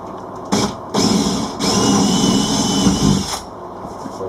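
A power drill bores a small pilot hole through the wall of a narrowboat during a radiator fit-out, whirring in several sustained bursts with brief pauses between, loud and close.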